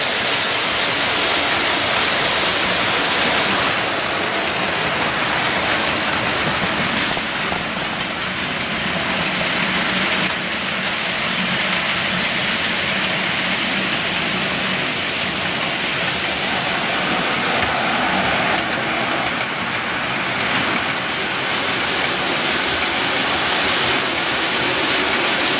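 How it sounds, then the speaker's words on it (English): Five model trains run steadily with all lights switched on, a continuous whirring rumble and a dense rush of noise, loud and unbroken throughout. "with five trains running with everything switched on, it's not too bad"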